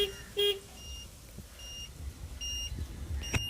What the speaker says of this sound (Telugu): ఇది వచ్చేసి safety alarm. Grain tank full అయినా కానీ ఈ అలారం అనేది మోగుతుంది.